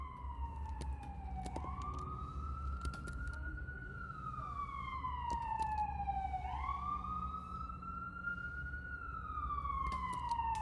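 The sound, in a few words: emergency vehicle siren passing outside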